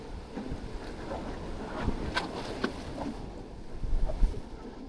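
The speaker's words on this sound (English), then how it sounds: "The wind is actually not doing me any favours now that" Wind blowing across a coastal rock fishing spot, a steady broadband rush with gusting swells, buffeting the microphone at close range and growing stronger toward the end.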